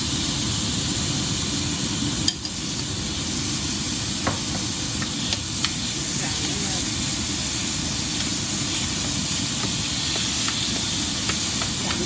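Beef for Vietnamese shaking beef hits a smoking-hot dry pan with no oil, giving a steady, loud, broad sizzling hiss that holds for several seconds with occasional sharper pops and crackles.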